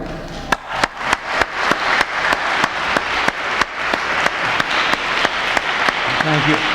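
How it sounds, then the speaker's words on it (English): An evening lecture audience claps for a speaker, the applause thickening around a rhythm of loud, evenly spaced sharp claps at about two per second, close and steady. "I'm going to ask you to applaud for him again."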